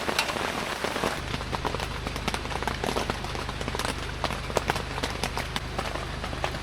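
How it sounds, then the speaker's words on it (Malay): Heavy rain pours steadily over a campsite at night, a dense continuous hiss with scattered sharp drops striking the tent and nearby surfaces, loud and close throughout, with a low hum underneath and no talking. "Info malam tu hujan sangat lebat, tapi mesti survive ni lah."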